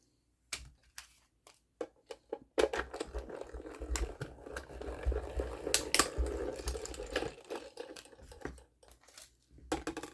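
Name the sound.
mini die-cutting machine cutting out paper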